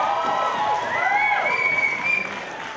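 Hip hop talent show audience applauding and cheering as performers are introduced, a dense, steady wash of claps and shouts with some whoops rising through the noise, loud and close throughout.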